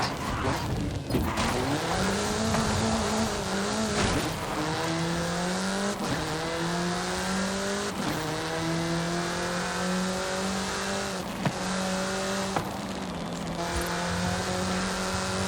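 A fast car in Forza Horizon 5 roars through repeated gear changes, its engine pitch climbing and dropping in a steady accelerating pattern, loud and continuous with brief tire noise.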